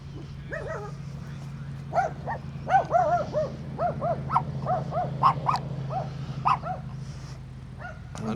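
A dog yelps and barks in a rapid, excited series while chasing a side-by-side vehicle whose engine drones steadily underneath, the barks fairly close and fluctuating in pitch.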